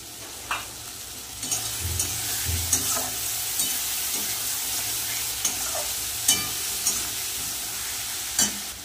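Potatoes with water-soaked ground cumin, turmeric and chili powder fry in a pan, giving a steady sizzle broken by scattered stirring scrapes and light utensil taps.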